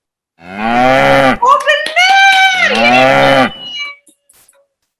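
A cow moos loudly and close by, one long drawn-out low call that breaks and swells again, followed by a short spoken exclamation.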